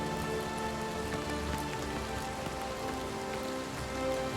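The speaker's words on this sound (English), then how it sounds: "I don't remember in the original game that there was this much rain." Heavy rain falls over grassy hills in the Oblivion Remastered video game, a dense, constant hiss and patter with no pauses and no voices.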